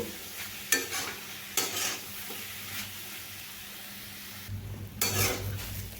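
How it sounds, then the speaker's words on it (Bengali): Papaya stir-fries in a pan with a low, steady sizzle, while a spatula scrapes the pan and gives a few sharp knocks spaced a second or so apart. No voice is heard. "আমি ভালোভাবে কষিয়ে নেব"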